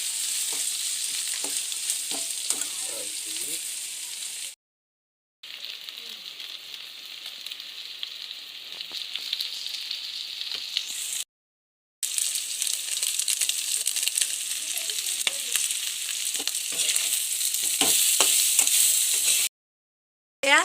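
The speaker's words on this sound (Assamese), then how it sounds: "মাংসটো ভাজি থকা হৈছে।" Pigeon meat fries in a pan for biryani, a steady crackling sizzle with occasional stirring scrapes, close and continuous apart from a few short cuts to silence.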